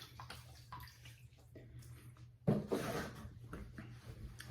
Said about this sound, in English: And so I'm gonna wet the face and get started.